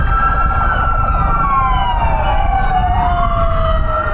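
Fire trucks in traffic in Metro Manila sound their sirens, loud, rising and falling wails that overlap one another over a steady road rumble.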